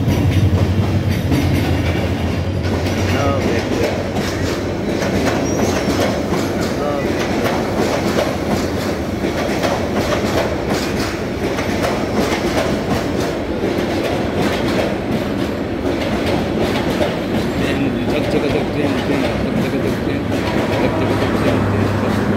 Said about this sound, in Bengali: এই তো ট্রেন চলে আসছে।